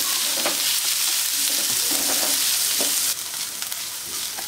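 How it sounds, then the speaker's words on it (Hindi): Onions frying over medium heat with coriander powder in a pan as bitter gourd curry starts, a steady loud sizzle broken by repeated scrapes of a stirring spoon, with no talking. "लगातार चलाते हुए मैं भून लेती हूँ।"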